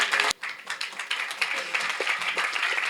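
An audience at a press meet breaks into steady, dense applause, a bright continuous patter of many hands clapping close by, with a brief dip near the start before it resumes.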